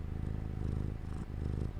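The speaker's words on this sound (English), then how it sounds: "cat purring ASMR up in here." Close-up purring from a house cat pressed to a microphone, a steady low rumble that pulses with each breath, faint overall and without speech.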